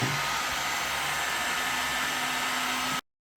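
A plastic repair heat tool for bumpers runs at maximum setting with a steady, loud blowing whoosh like a hair dryer, close by and alone, cutting off abruptly near the end.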